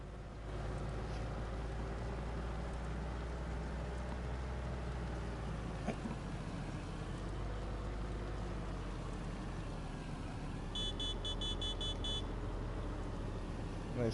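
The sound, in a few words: farm truck engine in Farming Simulator 19 video game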